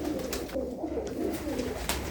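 Domestic pigeons of the Jante Wale Baba Ji breed coo in a low, steady stream that runs through the whole stretch, close by and moderately loud with loft noise behind.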